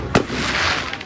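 A shower firework goes off up close with a sharp pop followed by a sustained crackling hiss of sparks that fades out within a second.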